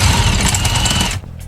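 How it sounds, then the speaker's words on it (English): A power drill grinds loudly into a sailboat's hull material in one short continuous burst, stopping abruptly. "I don't have one, I'm gonna use a drill."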